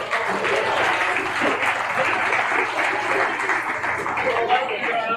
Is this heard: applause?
yes